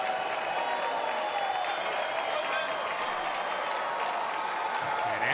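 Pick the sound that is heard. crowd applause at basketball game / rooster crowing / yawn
crowd applause at basketball game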